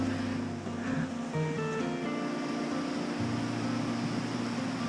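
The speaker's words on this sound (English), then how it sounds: "All you can hear is the sound of rushing water." A small stream rushes noisily beside a coastal footpath between Porlock and Lynmouth, a steady broadband wash of water with a faint tonal hum mixed in, close and continuous without any talk.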